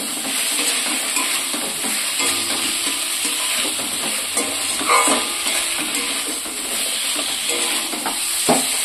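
Fried potatoes and soybean chunks being sautéed in a pan: loud continuous sizzling up close, broken by repeated scraping and stirring strokes of a spatula, no voices.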